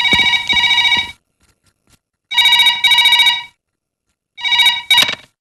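A telephone bell rings in loud, sharp bursts: two quick double rings, a pause, then two more and a final pair, each clear and close with silence between.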